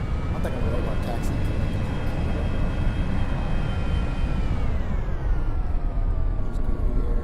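An airliner taxiing in the X-Plane 11 flight simulator gives a steady engine drone with a faint whine that slowly shifts pitch, continuous and fairly loud throughout.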